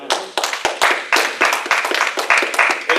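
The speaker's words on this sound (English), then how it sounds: "Let's give Mr. Dowridge a round of applause" A small audience claps for a performer portraying Frederick Douglass at a building in Dade City, Florida: loose, uneven handclaps from a handful of people, close and sharp, with no talking over them.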